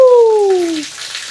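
Water runs from a tap in a newly finished bathroom, a steady close hiss with a brief falling squeal of the valve at the start, fading slightly toward the end.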